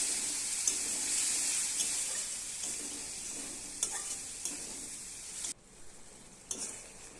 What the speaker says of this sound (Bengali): সব মশলাগুলো ভালো করে কষিয়ে নিচ্ছি